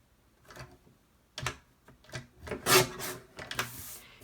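Paper trimmer or scissors slicing thin slivers off the edges of recycled greeting cards, heard as several short, close rasping cuts and rubs spaced out with brief pauses, no talking.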